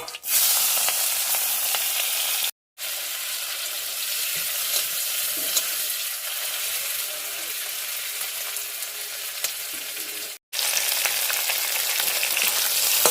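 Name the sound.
prawns frying in oil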